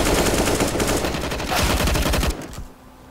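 Rapid, loud machine gun fire in a shooting video game rattles continuously for over two seconds, then cuts off abruptly, leaving quieter game ambience behind.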